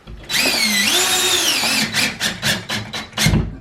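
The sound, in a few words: power drill driving screw into drywall patch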